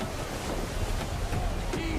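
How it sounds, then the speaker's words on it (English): Gusty wind at sea in Assassin's Creed 3, a loud, constant rushing blow mixed with surging waves and creaking sailing ship sounds, steady throughout. "Wind looks to be shifting. Stay alert, Connor. Gusty winds can be difficult to manage."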